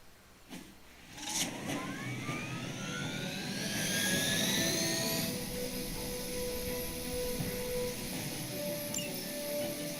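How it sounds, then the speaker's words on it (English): A helicopter engine in the Marvel Midnight Suns video game whines and rises in pitch, building to a loud, steady roar that holds over rumbling background noise. "We can't allow that helicopter to escape."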